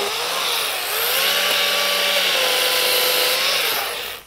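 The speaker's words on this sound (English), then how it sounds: "Let me grab the chainsaw and get this done." A chainsaw cuts through wood with a loud, continuous buzzing whine that dips slightly as it bites in, close by and steady for a few seconds, no talking.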